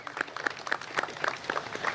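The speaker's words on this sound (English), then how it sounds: "Give him a round of applause and his team." At a mayor's press conference the audience applauds, a brief, fairly quiet spatter of hand claps from a small crowd.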